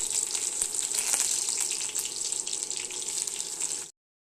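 Chopped tomatoes, onion and bay leaf fry in a kadai, giving a bright, steady sizzle with faint crackles throughout. The sizzle stays close and fairly loud and stops abruptly near the end, with no talking over it.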